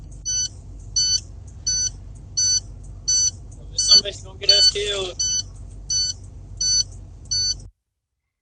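Regular electronic warning beeps, about ten evenly spaced pulses, sound inside a mine truck cab over a low engine rumble, with someone speaking briefly partway through.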